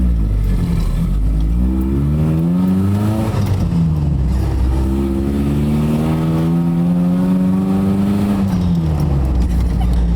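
An old truck's engine, fitted with upgrades including a header, revs and accelerates in rising and falling sweeps, loud and close throughout with constant road and engine rumble.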